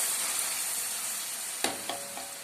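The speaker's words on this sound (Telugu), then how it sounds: "ఇది బ్రౌన్ కలర్ వచ్చే వరకు వేయించుకోవాలి" Coarse, chunky spice paste sizzles steadily in hot oil in a pan for drumstick masala, a constant close frying hiss broken by a few sharp knocks of stirring near the end.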